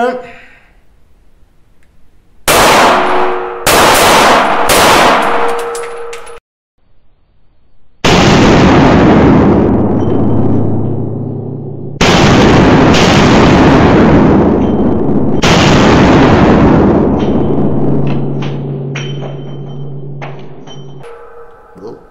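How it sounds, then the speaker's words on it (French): A Walther PPQ 9x19 pistol fired in quick succession: several bursts of loud, close shots with ringing echoes, separated by short pauses. "Un petit peu de tir rapide."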